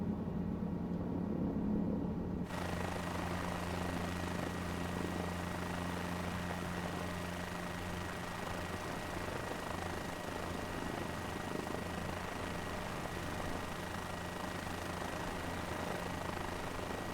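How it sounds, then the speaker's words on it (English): A helicopter in a flight simulator game hums steadily with a continuous rotor and engine drone, a broadband whir with low tonal throb, unbroken and without talk. "beautiful flight in this beautiful helicopter"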